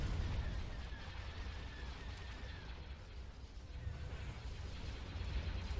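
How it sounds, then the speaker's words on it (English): Space battle explosions from the Star Wars Thrawn's Revenge strategy game pop and rumble continuously under a dense low roar, a steady wash of distant blasts with no talk. "with these little explosions just popping off all over the place"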